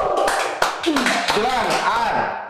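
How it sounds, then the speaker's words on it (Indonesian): A group at a staged presidential debate claps in a short burst of scattered hand claps, while voices talk and call out over it almost throughout. "Oke, tepuk tangan."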